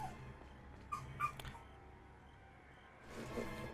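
Shadow the dog lets out a few short, faint yips and whimpers early on, then the room goes fairly quiet before some soft rustling noise near the end.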